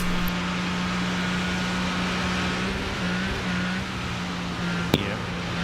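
A race car engine in iRacing at the Nürburgring, held at steady throttle with a constant droning tone that briefly dips and lifts, plus a sharp click near the end, loud and continuous.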